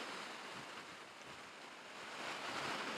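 Waves wash near the shore in a steady broadband hiss picked up by a wireless microphone in noise reduction mode, faint and continuous, rising slightly toward the end with no speech.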